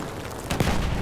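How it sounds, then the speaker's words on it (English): A bomb detonates in Battlefield 1, landing as a single loud, broad boom halfway through over a steady din of battle. "Bomba fırlatıyorum. Dikkat eyleyin. Dikkat. Bomba atıyorum."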